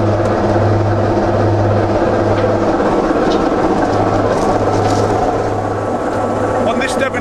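A Class 25 diesel locomotive, No. D7628, drones loudly and steadily in the cab, its low engine hum running unbroken throughout.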